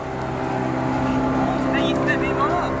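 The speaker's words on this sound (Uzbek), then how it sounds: "Necha kishi mumkin o'zi bu qayiqda mindirish?" Motorboat on a swimming river or lake, its engine droning steadily and loudly throughout, with faint voices and splashy high sounds near the end.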